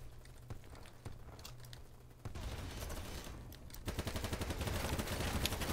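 BattleBit Remastered gunfire during a chaotic 127 vs 127 match, muffled bursts at first, then dense, rapid automatic fire growing louder and nearer.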